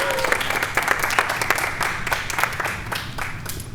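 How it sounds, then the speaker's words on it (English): Audience applause at a spring Shakespeare festival session, a moderately loud burst of many hands clapping that holds steady, then begins to thin toward the end. "Let's be done with this one. Applause"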